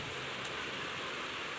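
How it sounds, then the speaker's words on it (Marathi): Heavy rain pours down in a dense, unbroken roar of hiss and spatter, steady and close, with no voices. "असा मुसळधार पाऊस पडत होता"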